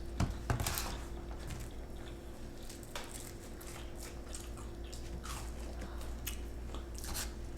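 Spicy chicken nuggets dipped in Chick-fil-A sauce being eaten, with close, moist biting and crunchy chewing over a steady background hum, no talking.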